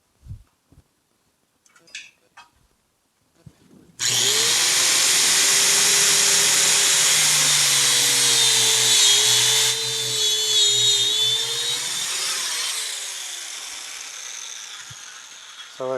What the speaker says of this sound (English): I use a mini grinder